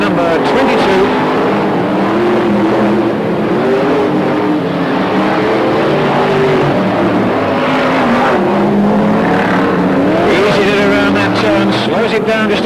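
Brisca F1 stock cars race on a wet, slippery oval at Northampton, engines roaring loudly and continuously as several cars pass, with a commentator talking over the noise.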